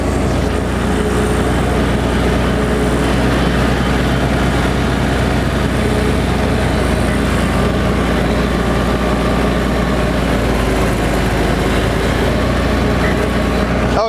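A tractor engine runs steadily while mowing, a loud continuous low droning rumble that holds at an even level throughout with no pauses.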